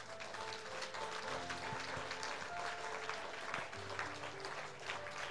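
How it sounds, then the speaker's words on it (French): A church congregation applauds steadily throughout, a dense wash of clapping with sustained music or organ tones underneath and no clear break. "Est-ce que quelqu'un peut applaudir Jésus ici?"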